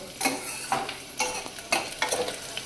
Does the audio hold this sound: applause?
no